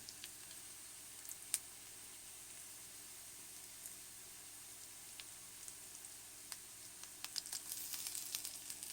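Faint sizzling as mustard seeds and chopped shallots fry in hot coconut oil, with scattered crackles and pops that grow slightly busier toward the end.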